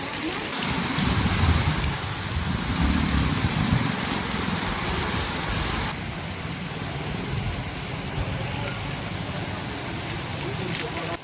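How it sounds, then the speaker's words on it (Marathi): Heavy rain falls on a city in Dhule, a dense, loud, continuous hiss and rumble. Traffic is faint beneath it and a voice speaks over it. "धुळे शहरात मुसळधार पाऊस आहे।"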